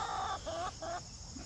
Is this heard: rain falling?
no